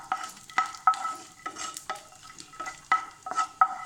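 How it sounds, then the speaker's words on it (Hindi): Coconut roasting and being stirred in a pan during caramel kheer preparation: soft sizzling under repeated scraping stirs and light clinks of a spoon against the metal, close and fairly quiet. "किछु नारियलो के भूज लै छियै तहिना कऽ कऽ"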